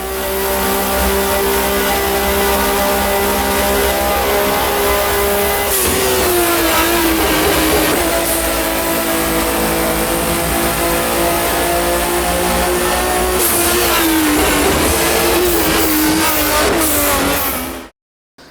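Race car engines from an rFactor racing video game mod, loud and sustained, revving up and down through gear changes for about eighteen seconds before cutting off abruptly, with no talk.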